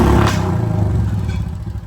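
A motorcycle engine runs close by after being started, a loud, low rumbling idle with some clattering mechanical noise over a short stretch.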